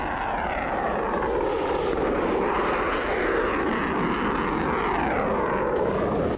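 A fighter jet roars steadily at close range for several seconds, a loud continuous engine rumble and rush with no talk and no distinct launch burst.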